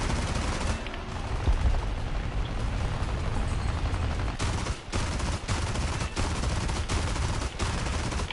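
Heavy, sustained gunfire in War Thunder pours toward the player, with overlapping machine-gun bursts and rapid volleys that run loud and nearly unbroken, dipping only briefly.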